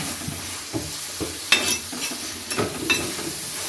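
Onions sautéing in a pan for fish curry, a low steady sizzle broken by repeated spoon scrapes and clinks against the pan at irregular intervals, close by and without voices.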